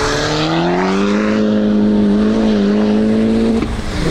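A Mitsubishi Outlander Turbo accelerates hard on a race track, its engine note climbing steadily in pitch as it pulls through a gear, loud and close throughout.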